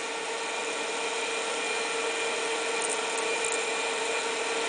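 A geared DC motor for robotics runs slowly, giving a steady, even whine with a faint hum beneath it, close and uninterrupted, with no talking.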